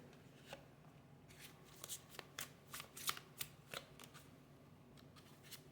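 An oracle card deck is shuffled close by, a quiet run of crisp riffling flutters and sharp card snaps in an irregular burst, with no talking.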